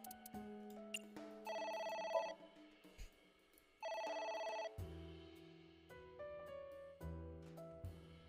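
A telephone rings in the video game AI: The Somnium Files, with repeated electronic ring bursts separated by short gaps and sustained synthesized music tones around them, clear and moderately loud with no speech.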